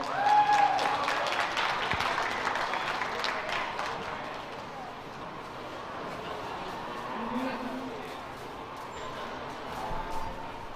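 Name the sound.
audience applause at a livestock show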